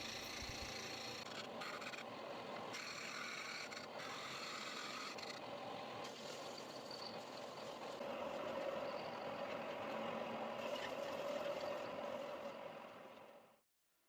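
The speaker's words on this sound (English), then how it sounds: "I'm just going to clean everything up at the belt and disc sander" A belt and disc sander runs steadily in a woodworking shop, a continuous near motor whine and abrasive hum throughout, smoothing pine 2x6 stool parts before spinning down and stopping at the end.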